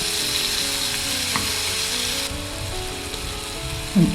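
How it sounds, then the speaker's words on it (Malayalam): Fish fries on its second side in a pan, giving a dense, steady close-up sizzle with faint spatters and a light utensil knock near the end. "ഈ മറ്റേ സൈഡ് കൂടെ നമുക്കൊന്ന് ശരിയാക്കി എടുക്കാം ഒന്ന് ഫ്രൈ ചെയ്തെടുക്കാം"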